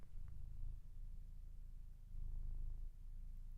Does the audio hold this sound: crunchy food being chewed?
no